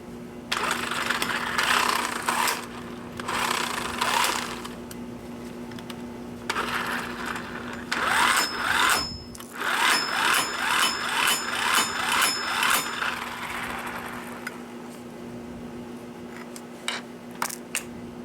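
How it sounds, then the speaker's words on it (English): An impact wrench rattles in several loud, close bursts while the variator bolt on a GY6 150cc scooter is tightened. Short pauses separate the bursts, and the tail end turns to quieter, scattered clicks. "after you tie it by hand, you can tie it with an impact wrench"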